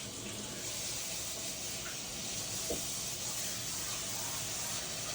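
Cold water runs from a tap in a steady, soft hiss that flows without pause, fairly faint and broad, with a small splash or clink partway through.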